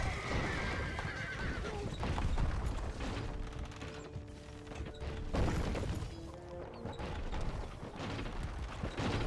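Horses neigh and whinny amid battle noise in the Stronghold 2 strategy game as mounted horse archers die, with hoof clip-clops and crashes mixed into a dense, continuous din.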